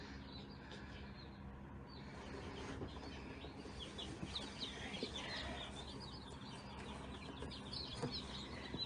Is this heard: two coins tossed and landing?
no